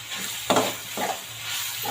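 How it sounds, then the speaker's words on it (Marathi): Grated beetroot in oil in a pan for halwa gets stirred with soft frying sizzle underneath, two distinct scraping strokes of the spoon standing out over the steady low crackle. "तेल टाकल्यानंतर बीट सारखं हलवत राहावे"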